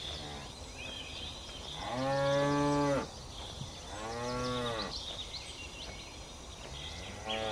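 A young African buffalo bellows for its mother in the wild, two long drawn-out moaning calls rising over a steady bed of insect and bird noise.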